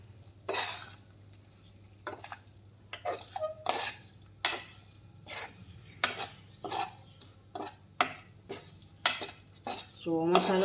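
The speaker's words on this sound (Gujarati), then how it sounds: "અને જુઓ આમ સારી રીતે બધું જ હલાવવાનું છે." Spatula knocking and scraping stuffed bitter gourds around a metal pan, a string of separate sharp clinks and scrapes with soft sizzling between them, close up and without speech.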